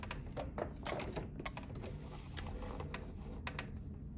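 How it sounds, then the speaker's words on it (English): A sewing machine stitches along a marked line on a quilt block, giving a quiet, close, fast run of mechanical ticking clicks without pause. "just sewing right on top of the line"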